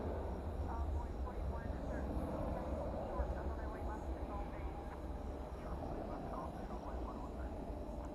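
An American Airlines Boeing 737-800 jet moves through DFW Airport at night, giving a steady, broadband roar with a heavy low rumble that holds at an even level throughout.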